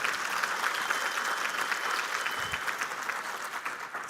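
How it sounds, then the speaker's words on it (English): Conference audience at a morning plenary breaks into steady applause, a dense wash of clapping that holds at an even level throughout, with no talking over it. "So can we just give them a round of applause?"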